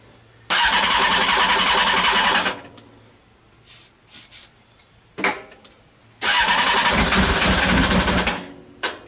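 A Honda CBR 600 motorcycle engine on a reverse trike, fitted with new spark plugs after a week of sitting, cranks in two long loud bursts of starter whine separated by a pause with a few short clunks, with no sustained running.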